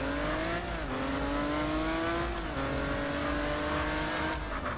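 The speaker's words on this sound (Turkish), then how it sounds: "Burada bu arabanın egzozunu değiştirebiliyoruz." Modded car exhaust revs in the MTA:SA driving game, a loud continuous engine tone rising and dipping between gear-like shifts across several seconds with no talk.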